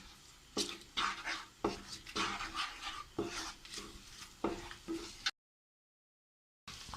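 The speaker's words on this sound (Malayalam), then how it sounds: "ഫ്ലെയിം ഓൺ ചെയ്തിട്ട് നമുക്കിതൊന്ന് ഇളക്കാം." Turmeric powder is stirred in a pan over the flame while making butter paneer, with repeated scraping strokes of a spoon against the pan in a steady rhythm, close and moderately loud, then a brief silence.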